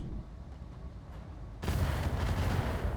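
Heavy weapons fire striking a Hornet mech in the Roguetech BattleTech game, a sudden loud burst cutting in midway over a low rumbling battle bed and sustained as dense crackling impacts.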